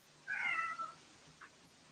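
A single cat's meow rises clearly for about half a second, then a brief fainter chirp follows, faint and somewhat distant against a quiet background.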